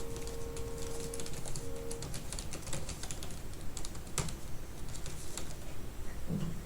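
Steady close-up typing on a computer keyboard, a quick patter of light key clicks with irregular pauses, quiet and without speech.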